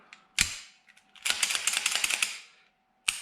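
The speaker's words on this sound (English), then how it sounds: "Put the slide back on, lock it to the rear, lever forward." Smith & Wesson 380 Shield EZ pistol being reassembled, with the slide going back on and locking to the rear: a sharp metallic click, a stretch of dense rattling and sliding, then another crisp click, close and fairly loud.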